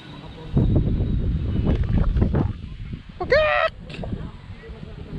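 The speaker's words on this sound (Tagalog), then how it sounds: "May manok mga papi." Nearby rustling and movement, then a short, loud honking squawk from a chicken, with brief voices around it, on Tinawagan Hill in Baao, Camarines Sur, Philippines.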